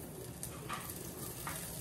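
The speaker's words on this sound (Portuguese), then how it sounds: "Vou deixar derreter aqui essa manteiga" Butter melting in a pan for a Christmas supper dish gives a soft, steady sizzle, faint and continuous, with a couple of brief brighter crackles.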